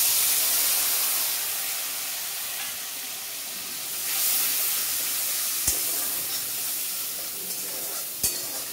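Ground cumin, coriander and turmeric hit hot oil in a pan for kochur sak, producing a steady close hissing sizzle with occasional sharp clicks of a utensil, with no voices.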